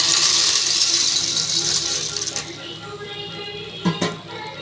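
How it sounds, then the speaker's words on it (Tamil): Macaroni is stirred into sizzling masala in a frying pan, with a spoon scraping and rattling against the metal and a steady fry hiss underneath. A couple of sharper knocks come near the end. "இப்போ இதை நல்லா மசாலாவிலே நல்லா மிக்ஸ் பண்ணி விட்டுறலாம்."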